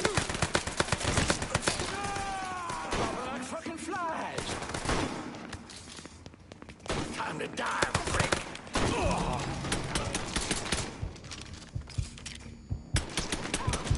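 Gunfire in the Mafia video game, with rapid bursts and scattered sharp shots crackling loudly and close over several seconds, pausing briefly before the firing resumes.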